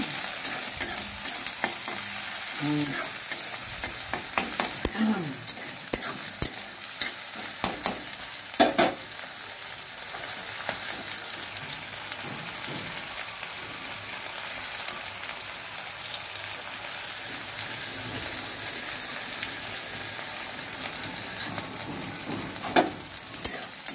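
Onion and vegetables for an aloo-phulkopi vegetable biryani fry in hot oil with a steady broadband sizzle, while a spoon stirs and scrapes the pan in irregular knocks and bursts close by. No voice is present.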